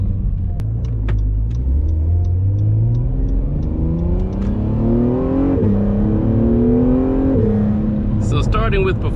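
An Acura NSX accelerates hard in a short burst, its engine note climbing through rising revs with a shift midway, loud and close from inside the car, with faint clicks and a brief higher rattle near the end.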